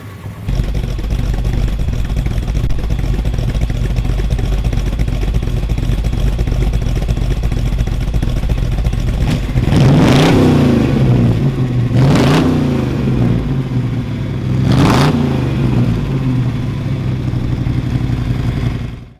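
A rebuilt V8 car engine with a lumpy cam, 600 Holley carburettor, factory exhaust manifolds and 2 1/4 exhaust idles with a loping, uneven rumble, then revs hard three times, each rise sharp and loud before dropping back to idle.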